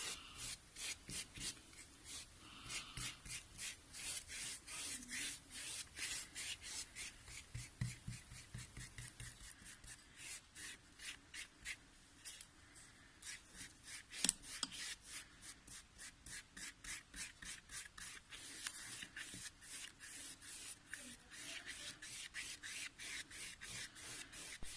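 A brush is worked over paper with gesso, giving a steady, close run of rapid scratchy strokes that continue without a break from start to end, with no voices.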